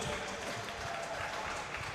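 An audience at a charity boxing competition applauds steadily after the final bout of the evening, a dense, even wash of clapping heard from within the crowd at moderate volume.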